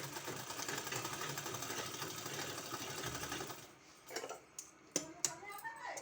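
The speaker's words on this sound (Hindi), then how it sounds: "इस तरह से मिला के सिलाई इसमें कर देना है।" A sewing machine stitches two strips of fabric in different colours together, whirring steadily and quietly up close for a few seconds before stopping, followed by scattered clicks and handling noises.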